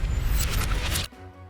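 Vault door closing sound effect played in reverse, a dense low rumble with metallic scraping that swells and then cuts off abruptly, leaving a faint tonal hum afterward.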